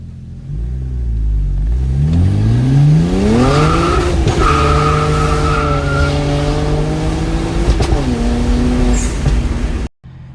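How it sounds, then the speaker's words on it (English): A BMW 335i E90 with a twin-turbo N54 engine and Walbro 450 fuel pump revs hard at wide-open throttle, pitch climbing steeply through a gear, shifting, and climbing again, loud and close before cutting off abruptly. "we'll run some longs, do some wide open throttle,"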